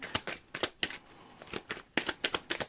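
Tarot cards being shuffled at close range in quick crisp riffling bursts, about a dozen sharp flicks in uneven clusters with short pauses between, no speech.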